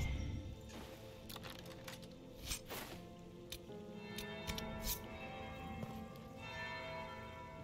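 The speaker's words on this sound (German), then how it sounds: "Das ist die Glocke." A church bell tolls in the video game Dragon Age Inquisition, repeated metallic strikes ringing over a low ambient game soundscape with clicks and thuds, no speech.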